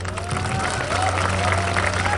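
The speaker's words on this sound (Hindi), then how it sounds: "सबसे पहले तो बीएसएफ के लिए तालियां हो जाएं" A crowd claps for the BSF at an Independence Day celebration at the Attari Wagah border, steady applause mixed with crowd noise and a low hum throughout.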